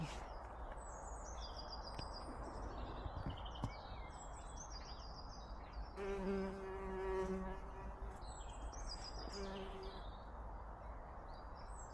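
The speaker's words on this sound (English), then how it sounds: "Ooh, look, there's a bee." A bee buzzes around netted strawberry plants on an allotment, a low insect hum that swells as it passes close, with birds chirping in the background.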